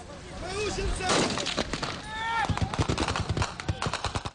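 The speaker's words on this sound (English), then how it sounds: "He calls for one gunman to fire." Gunmen fire weapons during fighting in Sirte, with a burst of shots followed by rapid sharp cracks toward the end, mixed with shouting voices and whistling sounds in the background.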